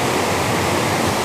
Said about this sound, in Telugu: చాలా దట్టమైన అడవి మధ్యలో ఈ వాటర్ ఫాల్ అయితే ఉంది